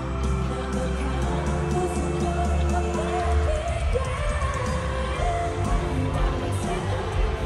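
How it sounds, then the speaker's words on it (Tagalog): A large concert crowd at a show in Toronto yells and cheers in a dense, continuous roar, loud and steady throughout with no clear breaks. "Yung sumigaw yung crowd ng mahiwagang salamin."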